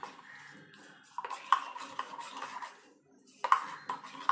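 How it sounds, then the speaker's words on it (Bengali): A spoon stirring milk in a pot to break up lumps, soft scraping and light metallic clinks in a few short bursts, quiet and close. "ভালো করে গুলে নেব যাতে কোনো রকম ডেলা না থাকে দুধের মধ্যে"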